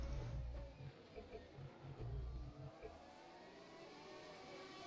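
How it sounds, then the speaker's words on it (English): F1 2020 race cars in rFactor 2 at Zandvoort, several engines roaring and droning at once, with pulsing low engine surges from nearby cars passing over a steady background of racing noise. "As you guys hear other cars screaming around us"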